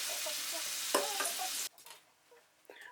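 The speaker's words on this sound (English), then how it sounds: "The second batch of lamb is also cooked on a nice high even heat." Lamb sears in a pot on high heat with a loud, dense sizzle and crackle that cuts off abruptly partway through, leaving faint scattered spits and a brief later burst.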